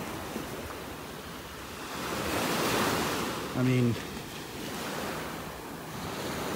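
Ocean waves wash continuously onto a beach in North Naples, Florida during a summer high tide, a broad steady surf roar with some wind, swelling mid-clip while someone speaks briefly over it.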